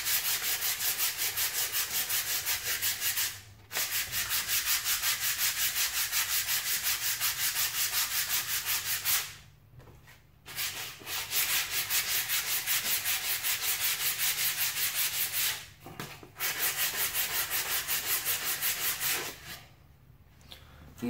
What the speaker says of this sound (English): You can see just after a few seconds of sanding, that really takes it down.